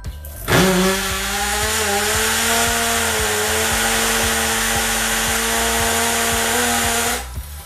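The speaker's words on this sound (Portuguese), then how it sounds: "furar o terceiro buraco aqui" A Bosch power drill boring into a wall whines steadily and loudly for several seconds, starting abruptly and cutting off near the end, with rhythmic ticking underneath.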